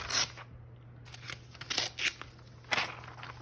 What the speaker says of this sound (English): I'll just tear out the article